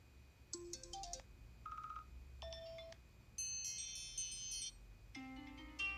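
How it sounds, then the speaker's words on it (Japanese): A phone ringtone plays quietly as a sequence of bright electronic melodic beeps and tones in short phrases, alone without talk. "これ電話の音なんですよ"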